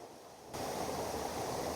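A mountain waterfall in Japan: after a brief quiet moment, a steady, loud rushing roar of falling water begins abruptly and continues without pause.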